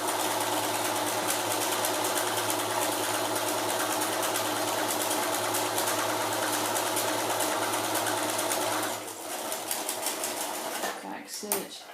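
A sewing machine runs in a steady, close whir as it back-stitches across the end of a cloth face mask, then slows and stops with a few clicks near the end.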